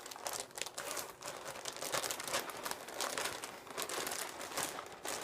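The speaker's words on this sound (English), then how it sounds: "More crinkling, sorry." Close, continuous crinkling and crumpling, like packaging handled during a knitting show-and-tell, runs steadily for about five seconds with small crackles and no talk.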